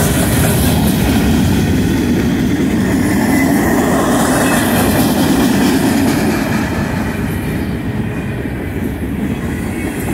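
Continuous rumble and rhythmic clatter of BNSF 6123 freight train rolling past close by through Effingham, Illinois, loud and steady throughout with no talking.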